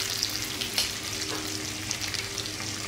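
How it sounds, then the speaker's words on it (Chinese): Pork ribs pan-fry slowly over the lowest flame, giving a steady, close sizzle with light crackles and a few soft pops throughout, with no talking. "我们这个排骨的话就是小火烧烧的，慢慢的啊，开最小的火，慢慢的给它煎制"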